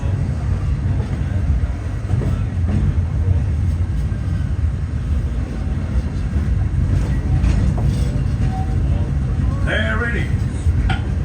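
Walt Disney World Railroad train in motion around the park, a continuous low rumble of the rolling cars heard from on board, with faint voices and scattered clatter over the steady drone.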